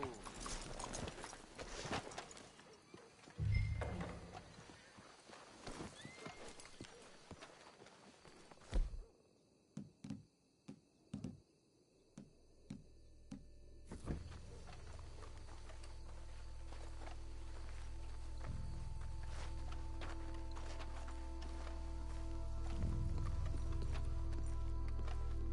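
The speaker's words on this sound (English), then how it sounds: "Let's hitch the horses up ahead." Horses in the video game Red Dead Redemption 2 clip-clop along at a walking pace, hooves close and steady, with a pause in the middle before the hoofbeats return over a low rumbling ambience.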